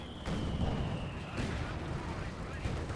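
Light artillery and infantry guns firing in the Company of Heroes 2 strategy game, a dense, steady rumble of distant blasts and gunfire throughout, with a thin high whistle fading away partway through.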